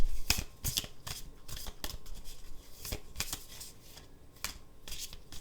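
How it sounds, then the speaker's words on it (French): Totem animal oracle cards are shuffled and drawn in a quiet room, a run of crisp papery flicks and slaps in uneven bursts, close and fairly soft, with no talking. "On va prendre une ou deux cartes des animaux totems."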